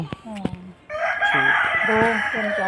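A Punjabi Aseel rooster of an old heritage breed crows loudly and close by in one long, sustained call after a few short clucks.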